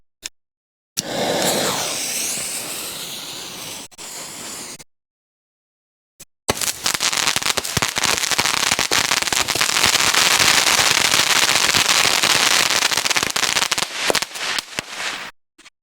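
A Black Cat fireworks mine cake fires at night in rapid, very loud bursts of crackling reports, first a short dense volley, then a pause, then a long sustained barrage close by.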